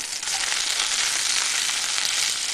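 A homemade beef burger patty frying in a pan, a loud continuous hiss and sizzle without pauses, close up and alone with no talking.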